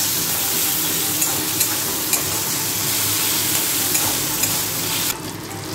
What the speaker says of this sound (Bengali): আর দেব টমেটো, দিয়ে এটাকে ভালো করে ফ্রাই করে দেব।